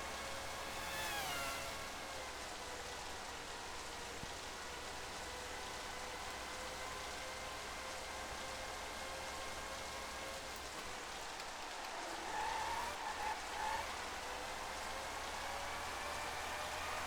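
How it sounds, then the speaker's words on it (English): Steady rain hiss on a soaking-wet track at Suzuka in the 1997 racing game Formula 1 Championship Edition, a continuous even wash with faint car engine tones underneath throughout. "Man, there's a lot of rain on the track."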